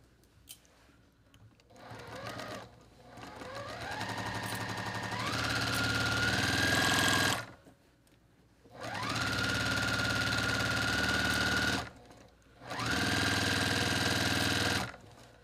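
A sewing machine stitches a quilt top in three long bursts, each whirring up to a fast, steady hum before stopping, with quiet pauses between runs.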